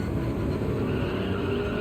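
Mercedes race car engines in a Gran Turismo 7 race at Road Atlanta, a continuous dense roar of several cars at the start, steady and loud with no pauses or voices.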